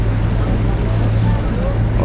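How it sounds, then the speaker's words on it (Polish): A catamaran's engines run up on a boat trip off Funchal, Madeira, giving a steady loud low rumble with constant wind and water noise and no break. "Katamaran nabiera mocy, zaraz startuje."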